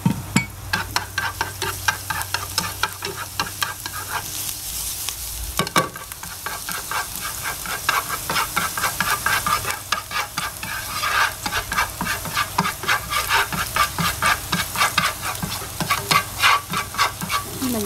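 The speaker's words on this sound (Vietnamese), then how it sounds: "Khi chảo nóng thì em sẽ cho dầu vào. Rồi mình sẽ cho một ít tỏi vào luôn." Garlic sizzling in hot oil in a pan, with a constant loud frying hiss broken by rapid scraping and stirring strokes throughout, close and with no talking.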